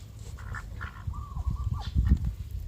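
Tame Rouen ducks quack in a short cluster of nasal calls over low rustling and shuffling nearby, fairly close and moderately loud, with no talking.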